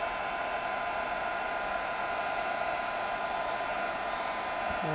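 Electric heat tool blowing hot air onto embossing ink on a greeting card, a steady, close, continuous whirring hiss with no change in level.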